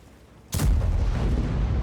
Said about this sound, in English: Take a little cheeky shot here.